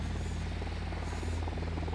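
Steady droning buzz of a surveillance drone in Ghost Recon Wildlands, a continuous rotor whine with a pulsing low hum, constant and fairly loud throughout, no voices.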